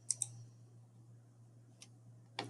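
A few faint, sharp computer mouse clicks over a steady low hum: a quick double click at the start, a lone click near the middle, and another click at the end.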